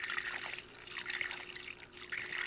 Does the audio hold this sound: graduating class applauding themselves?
no